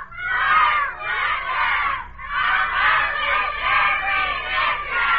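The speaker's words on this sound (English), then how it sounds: "Let's start out the right way by yelling out our official slogan." A group of young cadets in a ready room yell their official slogan together on an early 1950s children's aviation broadcast, a loud, continuous crowd shout of several seconds that swells in waves and briefly dips once.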